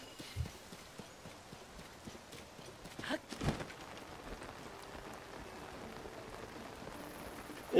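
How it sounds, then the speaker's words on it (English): Steady light rain patters throughout during gameplay, soft and close, with a few sharper knocks and clatters breaking in around the middle. "And it just so happened to be raining"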